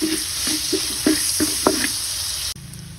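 Garlic and onion sauté in a pan with salt, a steady sizzle punctuated by several rhythmic spatula strokes against the pan, then the frying drops abruptly quieter near the end; no talking.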